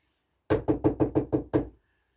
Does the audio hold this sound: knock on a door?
yes